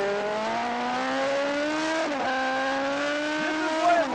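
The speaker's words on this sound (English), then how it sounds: "share with David Emdy on our number 56 camera bike the sights and sounds of riding a superbike" A superbike engine screams steadily as the rider runs a race track from an onboard camera bike, a loud continuous whine rising slowly in pitch, with a brief dip near the middle and a surge at the end.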